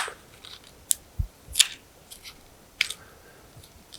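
Several sharp, crisp snips as a bottle cork is cut to length, four or five distinct cuts spaced irregularly over a quiet background, close and clear.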